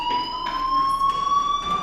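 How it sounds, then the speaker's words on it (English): Fire alarm in the video game Life Is Strange, a loud continuous electronic tone pulsing in short repeated bursts, heard alone without talk. "Hey, do you hear that fire alarm?"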